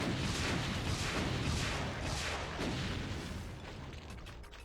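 Rockets fire and explode without pause in the modded shooter Doom, Hell Revealed II with Brutal Doom, making a dense, loud wall of booming blasts that fades slightly toward the end.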